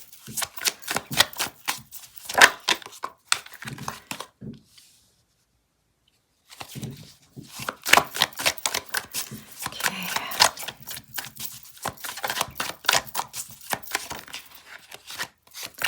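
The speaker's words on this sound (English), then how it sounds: "I shuffle till one card falls out" A deck of tarot cards is shuffled by hand in rapid riffling bursts, crisp and close, with a brief silent pause partway before the quick flicking resumes.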